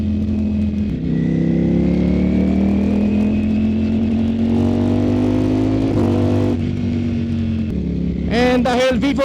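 Ducati Streetfighter V4 S motorcycle accelerating hard, its engine note rising steadily through the gears with a quick-shifter upshift near the middle. The engine is loud and close throughout, then a sharp rev burst comes at the end.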